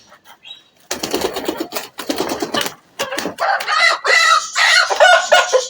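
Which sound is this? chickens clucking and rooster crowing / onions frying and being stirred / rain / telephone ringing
chickens clucking and rooster crowing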